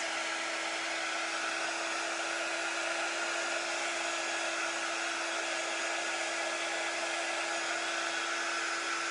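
Hair dryer running steadily on etched butterfly paint, a constant close whir with a strong whine and no pauses, alone with no voices.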